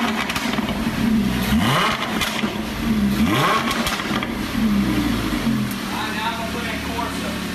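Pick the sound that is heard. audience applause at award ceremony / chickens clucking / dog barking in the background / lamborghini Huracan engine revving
lamborghini Huracan engine revving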